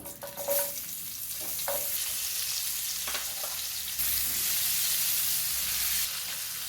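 Chopped medium onion frying in hot oil in a pan with dried red chillies and a pinch of turmeric, a steady close sizzle and crackle with a few brief stirring clinks and no talking.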